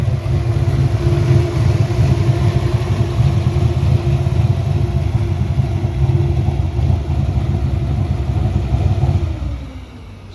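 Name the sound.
turbocharged 1993 Ford Mustang Cobra replica exhaust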